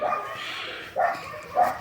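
Dogs bark outdoors at a distance, three separate woofs spaced unevenly, moderately loud with no talking over them.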